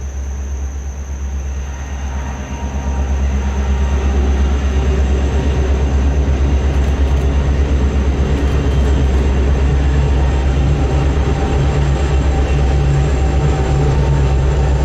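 A long freight train led by KCSM and BNSF locomotives rolls across an old railroad bridge on the former C&O line, a loud, steady rumble and rattle of wagons sustained throughout, with a faint high squeal.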